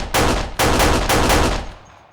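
Three loud, close gunshot bursts in a cartoon showdown, each broad blast ringing briefly before the next, then a short decaying tail; no talking.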